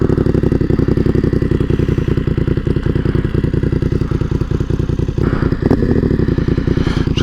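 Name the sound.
BMW F900R motorcycle engine with Dominator exhaust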